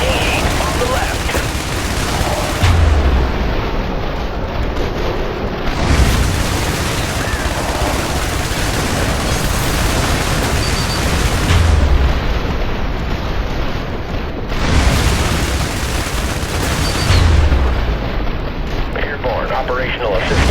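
Artillery and airstrike explosions in the IS Defense video game arrive as heavy booming blasts roughly every few seconds over a dense, constant roar of battle and gunfire, loud and close.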